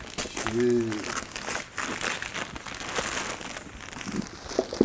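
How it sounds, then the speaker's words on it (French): Gift wrapping paper crinkles and rustles as a present is unwrapped, a steady papery crackle running throughout, with a brief voice near the start. "Elle prend son temps en plus pour ouvrir le cadeau"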